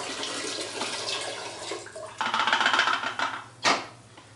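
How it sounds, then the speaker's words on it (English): Photographic fixer poured into a film developing tank while processing 120 roll film, a steady liquid splash with a louder, fuller gush near the end. "Pour the fixer back into the tank."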